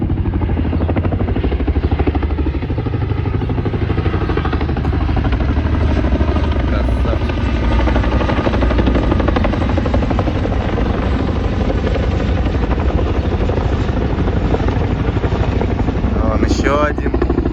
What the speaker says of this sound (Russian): О, военные вертушки.